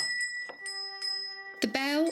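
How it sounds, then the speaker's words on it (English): A small bell hung over a shop door jingles as someone enters. Bright, ringing chimes sound a few times with a lingering tone, and a voice starts speaking near the end. "The bell over the door jingled"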